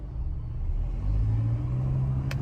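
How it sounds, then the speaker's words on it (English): A car drives along a road through a Los Angeles neighborhood, heard as a steady low engine rumble with road noise from inside the vehicle, rising slightly midway. "Driving through Beverly Wood right now."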